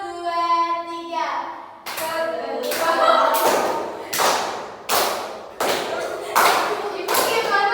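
A school class performing the 'tepuk semangat' clapping chant: sharp, loud rhythmic claps in a patterned sequence of separate bursts, preceded by a teacher's voice.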